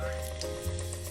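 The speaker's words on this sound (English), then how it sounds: "So you can see the oil is hot because it's frying." Hake pieces frying in hot oil for a fish stew, a dense continuous sizzle with steady crackle, close and loud throughout.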